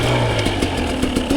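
A dirt bike engine idles low and rough, then takes several quick throttle blips during wheelie practice, each one a short rising burst over the steady chug.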